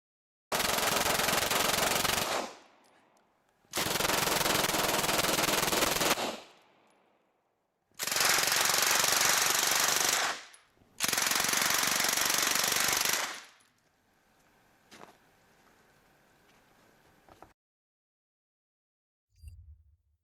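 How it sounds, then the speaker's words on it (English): A first-generation Calico Mac full-auto gun fires four long, loud continuous bursts, each lasting about two seconds, separated by brief silences, followed by faint mechanical clicks. "First gen Calico Mac full auto"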